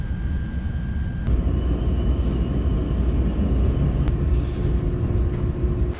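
An Amtrak California Zephyr train rumbles steadily in a deep, continuous roar, heard up close from on board, with faint high tones and a clank partway through.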